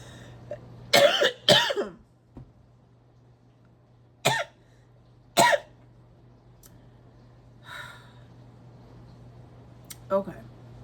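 Several harsh coughs close to the microphone, a quick cluster first, then scattered single coughs with quiet gaps between them.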